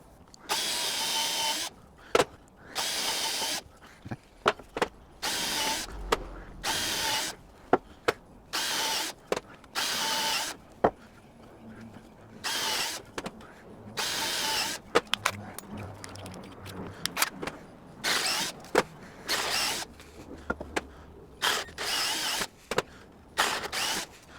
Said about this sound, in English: this iron is just so soft that the drill just bites right into it.